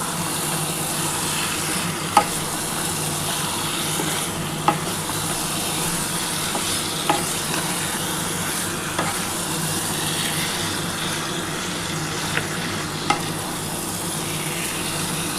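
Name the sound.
spices and chicken being sautéed and stirred in a pan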